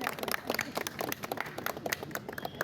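A small group clapping with individual claps clearly audible, a lively uneven patter that continues throughout.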